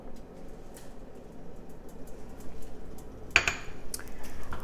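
Garlic and shallot stirred in vegetable oil in a wok over medium heat: a steady low sizzle with soft scraping, and a sharp metallic clink of the utensil against the wok partway through.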